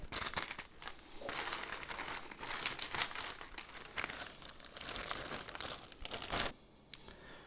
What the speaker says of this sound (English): Got some parchment paper that I'm gonna put right over the bone so it doesn't pierce the bag.